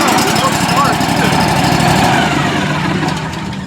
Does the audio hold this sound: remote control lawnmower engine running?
yes